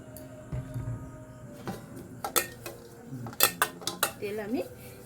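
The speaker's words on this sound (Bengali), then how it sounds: "তেল আমি এভাবে টিফিন বাটিটার মধ্যে মেখে নেব" Metal clinks and scrapes as oil is rubbed around the inside of a steel tiffin bowl, with scattered light taps and knocks that grow busier toward the end, close and fairly quiet.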